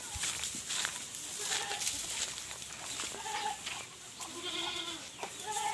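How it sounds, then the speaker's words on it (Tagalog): Goats bleat repeatedly on a Filipino farm where they are being watered and fed, with several wavering calls overlapping, close and fairly loud, with brief voices and farm background between them. "ating mga kambing"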